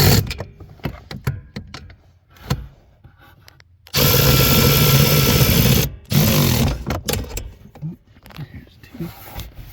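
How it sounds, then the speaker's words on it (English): A Milwaukee 1/4 inch ratchet tightens bolts while an accelerator pedal kit is fitted to a 2004–2005 Cadillac CTS-V, sounding in a few loud, buzzing bursts, the longest lasting about two seconds, between handling clicks and someone talking. "to tighten these, I use my Milwaukee 1/4" ratchet. Get these going real quick."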